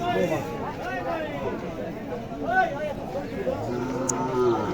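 A six-to-seven-month-old crossbred calf moos repeatedly at a traditional cattle market in Naogaon, the close, drawn-out calls rising over a background of crowd chatter and nearby talking voices.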